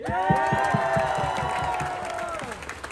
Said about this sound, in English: let's give another round of applause to my soulmate, my rock, the true rock star in our family, my wife, Evelyn.